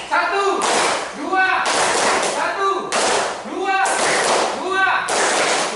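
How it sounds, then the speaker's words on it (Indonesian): Hands clap in a classroom counting game, sharp bursts arriving in quick groups of one and two, alternating with a spoken voice between each round. "Kalau saya sebut 2, tepuk tangannya 2."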